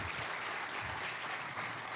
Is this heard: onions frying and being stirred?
no